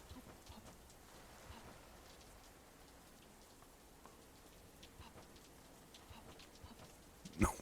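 Steady rain falls throughout a video game scene, a soft continuous patter with scattered droplet ticks, ending in a brief louder knock near the close; no one speaks.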